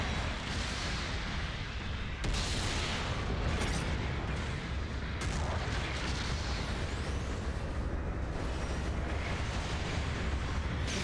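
Explosions in a Fed versus Zeon mobile suit video game as an enemy mobile suit is destroyed, a dense continuous rumble of blasts and booms with sharp bursts standing out, loud and unbroken.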